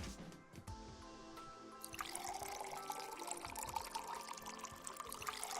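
A steady trickling pour of milk into a glass in a puzzle video game, with drips and small splashes building after the first couple of seconds, set against a soft musical backdrop.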